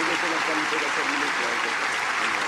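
An audience at a career counseling event applauds, a dense, loud, continuous wash of clapping from many hands filling the whole moment.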